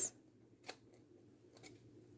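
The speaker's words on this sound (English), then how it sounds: "I'm just going to take my paper snips and turn that opposite side and just snip off those 2 little pieces." Paper snips cutting two small pieces from a handmade greeting card, heard as a couple of brief, faint, crisp snips spaced apart in a quiet room.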